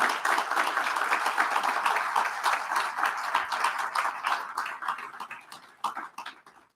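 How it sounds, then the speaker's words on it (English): Audience applause at a Rotary club annual meeting, a dense steady wash of many hands clapping that holds loud for several seconds, then thins and fades toward the end. "So please give a round of applause to Cindy Peterson."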